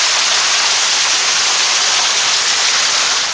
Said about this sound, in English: That hail coming down north of Cochrane this afternoon.